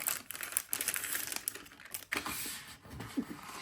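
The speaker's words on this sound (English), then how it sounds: "I'll just take it out the packaging. Sorry for the rustling." Plastic packaging rustled and crinkled while a set of chipboard words is unwrapped, rapid close crackling and crinkling bursts with brief pauses, no talking.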